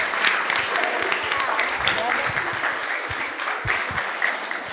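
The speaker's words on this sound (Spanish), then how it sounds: "Un aplauso a ese grupo." A retreat audience claps for a group after a talk, sustained mixed applause from many hands at moderate volume for several seconds.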